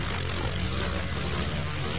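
A cartoon helicopter flies steadily with a continuous low rotor and engine drone, loud and close, with no voices.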